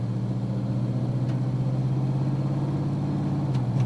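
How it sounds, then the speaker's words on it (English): A car with a General Motors 4L60E transmission cruises under light throttle on a road test, its steady mid-pitched engine hum and tire rumble continuous and close, with no speech. "Start with some light throttle upshifts and feel for the 1-2,"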